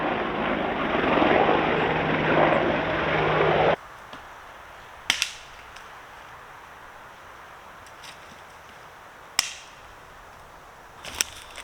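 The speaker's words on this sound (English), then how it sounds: "There's normally a jet in my videos, but looks like it's a helicopter today." A helicopter passes over a UK forest, its loud steady rotor and engine drone filling the first four seconds before cutting off abruptly, leaving quiet woodland broken by a few sharp knocks.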